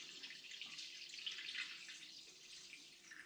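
Wort for an all-grain German spring Rauchbier poured steadily into a glass demijohn, a soft continuous liquid splash and trickle, close and fairly quiet, with no voices.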